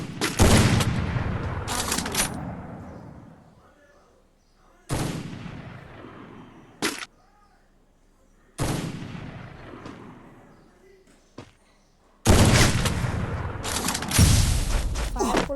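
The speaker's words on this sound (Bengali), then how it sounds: "ফায়ার করলাম, এবার আবার M5 দিয়ে মেরে দিব।" Gunfire in the mobile battle royale game Free Fire, loud bursts of shots in several clusters separated by short fading gaps, with a final heavy sustained volley at the end.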